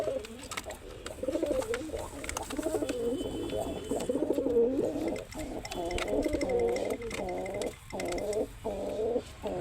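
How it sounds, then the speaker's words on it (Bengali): A colourful pigeon coos steadily in a loft, its rolling, throaty calls repeating in close succession, fairly near and clear with only a faint background hum. "এর পায়রাটার বুলিটা দেখেন"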